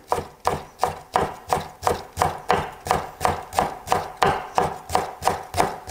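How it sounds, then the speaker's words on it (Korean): A knife cuts green onion (daepa) into thin julienne strips on a board, giving a fast, even series of crisp chopping taps, roughly three a second, close and clear with no talking. "이렇게 해서 대파는 채를 썰어주시고요."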